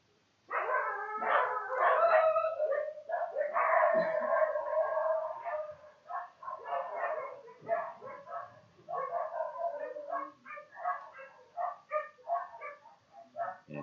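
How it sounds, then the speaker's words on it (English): Stray dogs bark, yip and howl outdoors near a cricket ground, a busy overlapping chorus of several animals that starts loud and continues in irregular bursts. "it's a little bit of dog on dog action outside. So there's quite a few stray dogs wandering around"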